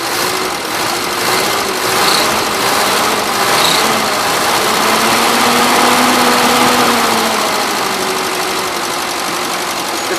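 A tractor engine runs after its carburetor jet was cleaned, fed from a racing fuel cell; a loud, close, steady idle with a fairly even putter and slight wavering in pitch, no talking.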